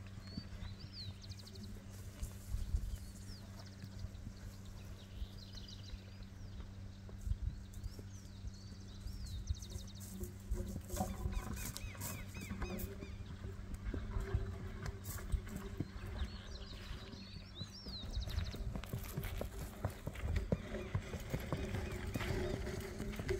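Horse hooves clopping in a steady walking rhythm, close by, with some background noise and occasional voices.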